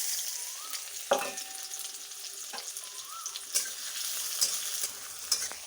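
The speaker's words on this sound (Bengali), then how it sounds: "তেলটা গরম হয়ে গেল, আমি পেঁয়াজ কুচিগুলো তুলে দেবো এবং তুলে দিলে লাল লাল করে ভাজা হয়ে যাবে" Chopped onions hitting hot oil crackle in a soft, steady sizzle, punctuated by several sharp clinks and scrapes of a spoon stirring the pan.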